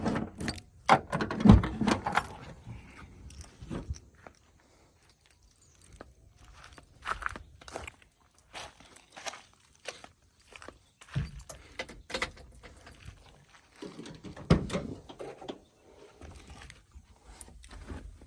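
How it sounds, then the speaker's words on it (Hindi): Keys jangle and rattle near the rear of a Maruti Suzuki Omni van as the boot is opened, with clinks, handling knocks and faint shuffling spread over a quiet stretch. "अभी हम डिक्की को खोलता है"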